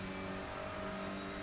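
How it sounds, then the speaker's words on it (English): Honda Civic Type R TCR touring car at Thruxton, its engine held at a high steady pitch against the rev limiter for a brief moment, a continuous strained buzz heard from inside the car. "Keep hitting that rev limiter."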